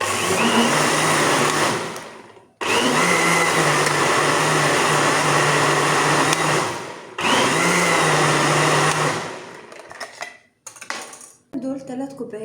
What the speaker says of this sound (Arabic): نحط الخلاط وهنضرب كل الكلام الجميل ده كده مع بعضه